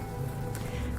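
Steady rain patters on a surface at night, a dense, even hiss that holds at constant loudness throughout with no voices.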